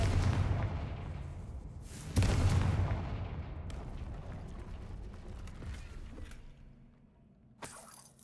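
A fiery Confringo blast spell goes off in a wizard video game, giving a loud booming burst with crackling, shattering debris and rumbling that trails away, followed by a second sharp impact near the end.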